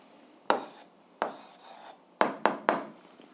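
A marker or chalk taps and scrapes across a board in five short separate strokes, close and fairly quiet, with silence between them.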